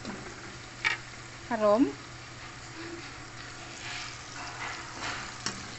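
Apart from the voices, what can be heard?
dried anchovies (dilis) frying in a pan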